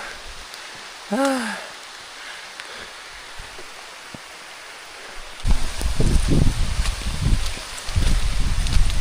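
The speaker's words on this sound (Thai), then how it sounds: "ฝนมาช่วยเราแล้ว" Rain on leaves begins as a soft hiss, then grows into a louder, steady patter of drops partway through. A brief rising whistle-like call sounds early, and there is no clear talk.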